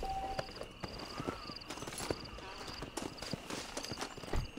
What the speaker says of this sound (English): Oh, it's horses.